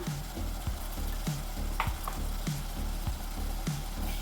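Onion and dry coconut paste sautéing in a pan for a grey gravy, a steady sizzle with regular scraping strokes of a spoon roughly every 0.6 seconds, close and continuous with no talking.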